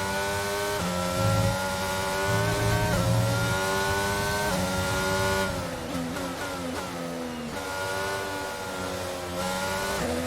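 Formula 1 car engine in the F1 22 racing game at Belgium, screaming at high revs with sharp pitch drops on downshifts and climbs back up under acceleration, loud and continuous with no talking.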